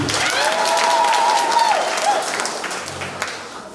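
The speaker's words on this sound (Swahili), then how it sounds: "Tumpigie tena makofi." Church worship crowd applauds the choir, a loud dense wash of clapping that fades gradually over a few seconds, with a voice briefly speaking over it.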